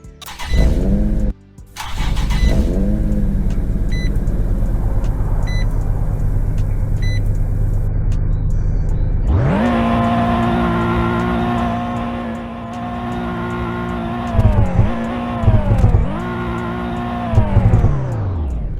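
A car engine idles with a rough rumble, then revs up loudly and rises and falls in several sharp blips, close by and without talk.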